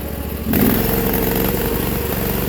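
An old Sears lawn tractor with a mower deck revs loudly and close by as its wheels spin, a steady engine roar that swells suddenly about half a second in and then holds.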